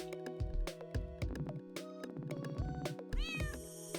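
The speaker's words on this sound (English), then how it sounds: "It meows." Cat meowing in an animal role-playing game, several short meows spaced over a few seconds, clear and close with no talk.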